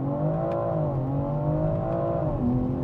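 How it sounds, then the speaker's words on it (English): A BMW X3M SUV launching from launch control, its engine roaring loud and close in one continuous, steadily climbing pull with harmonic tones that dip briefly at each gear change. "You're gonna put your foot down all the way on the brake, all the way on the gas"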